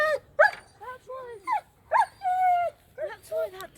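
A dog with mange barks and whimpers close by in a string of high, wavering yips and whines broken by short pauses, loud and clear over a quiet background.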